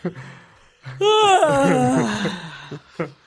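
A person imitates a long, drawn-out yawn, rising and then falling in a wavering vocal moan, close to the mic with short sounds around it.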